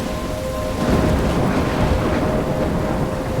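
A thunderstorm in the video game Life Is Strange, with steady loud rain and a low continuous thunder rumble that swells and lingers, no voices.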